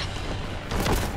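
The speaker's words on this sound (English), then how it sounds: "I'll throw a grenade up there too" A grenade goes off in the Warhammer 40k Boltgun video game as a short, muffled boom that swells over a dense, noisy backdrop of game audio, with no voices.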